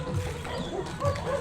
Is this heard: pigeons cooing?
no